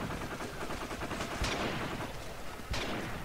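Gunfire from Call of Duty: Modern Warfare 3 during team deathmatch, a dense continuous rattle of shots with two sharp, louder bursts standing out, no voices.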